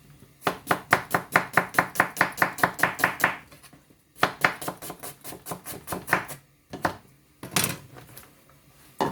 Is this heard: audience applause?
no